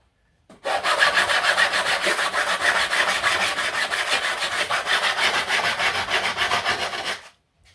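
Peel ply tears off wood in a steady, raspy scraping, continuous for about six seconds, close and fairly loud with a rhythmic grainy texture.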